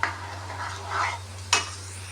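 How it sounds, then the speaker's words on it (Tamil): A spoon stirs chickpea curry frying in oil in a pan, with scraping strokes and a soft sizzle, ending in a sharper clatter of utensil against pan over a steady low hum. "போட்டு நல்லா கிளறி விட்டு"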